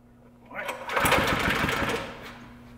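A restored diesel Honda rock crusher's engine is pull-started and catches, rising into a close, rapid knocking chug for about a second and a half before easing off.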